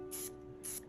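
Spray paint hisses out of a can held at an angle during art-making, in two short, close bursts of about a fifth of a second each with a pause between them.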